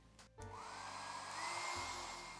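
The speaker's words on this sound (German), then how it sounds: "Jetzt werde ich das Papier einmal trocken föhnen, bevor es dann weitergeht." Hair dryer blowing over watercolor paper, a steady loud whirring rush that starts after a brief click and holds constant to the end.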